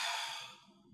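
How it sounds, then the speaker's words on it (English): A deep breath drawn in and let out, a single soft sigh-like exhalation close up that fades over about a second, with no talking. "Big breath."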